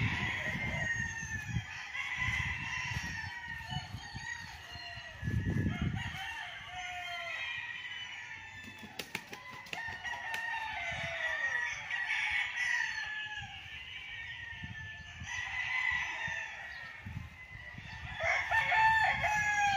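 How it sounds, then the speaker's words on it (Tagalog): Roosters crow repeatedly at a moderate distance while hens cluck in between, a lively chorus on a fenced one-hectare farm lot in Liliw, Laguna, with no talking. "Ganda ng mga manok."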